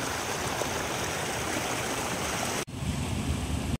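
A small mountain stream spills over little waterfalls, giving a loud, dense, steady rushing roar close by. Near the end it cuts abruptly to a softer, lower gurgling flow before briefly surging back.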